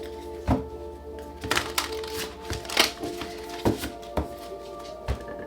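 Close-up tarot card shuffling: irregular papery riffles and light thumps of a deck being tapped, with a faint steady hum underneath.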